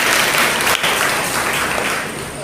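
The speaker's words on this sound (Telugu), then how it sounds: "గట్టిగా చప్పట్లు కొడదాం" A church congregation claps loudly together, a dense, sustained burst of applause that fills the hall and fades slightly toward the end.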